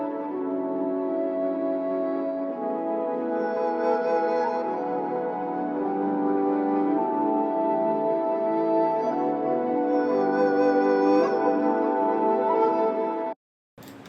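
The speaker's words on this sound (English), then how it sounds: "I think we just have a pad running," A loud synth pad sustains in an Ableton Live track, dense layered chords held steadily and evenly throughout, then cutting off abruptly near the end.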